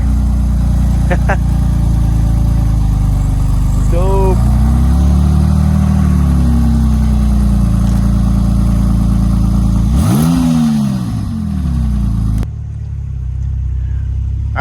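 A Porsche 996 Turbo fitted with a Fabspeed Gen 1 exhaust and 100-cell cats idles and revs, a deep loud throaty rumble with a couple of sharp throttle blips, heard close from inside the car.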